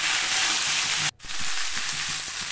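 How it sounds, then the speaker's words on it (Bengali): Fried vegetables and spices are stir-fried in a pan for a vegetarian pea and paneer dish, a close, steady sizzle with one brief break as the food is stirred. "একটু মশলাটা কষা হয়ে গেলে আমি ভাজা সবজিগুলো একে একে সব দিয়ে ভালো করে মিক্স করে কষিয়ে নেব।"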